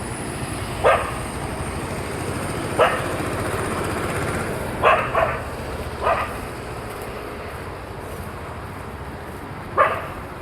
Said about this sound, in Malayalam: അപ്പോൾ ഇത് വേറൊരു ടെറിട്ടറി ഡോഗ്സാണ്, വേറൊരു പാക്കാണ്.